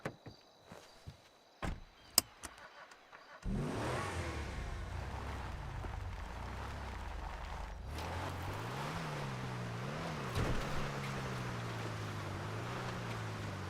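Car engine in a roleplay video game pulling away from quiet, its rising pitch sweeping upward through gear changes and revving hard, loud and close over a faint wind-like hiss, with no talking.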